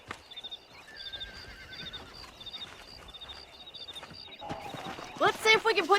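Horse whinnies and clip-clopping hooves in the western game Red Dead Redemption, a loud neigh rising near the end over soft ranch ambience with faint bird calls, while someone talks.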